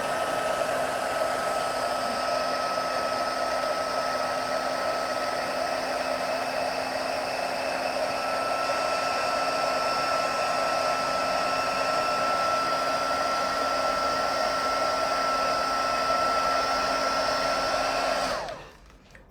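A heat tool blows steadily to melt embossing powder on a Christmas panel shutter card, a loud, even hair-dryer-like whir with a constant tone that runs unbroken before switching off abruptly near the end.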